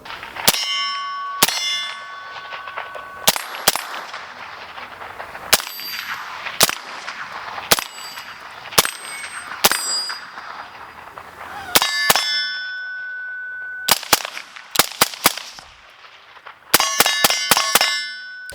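Rifle shots ring out on steel targets at night, each crack followed by a bright metallic clang, in irregular bursts of single and rapid hits across the stretch, fairly close and loud with no talk.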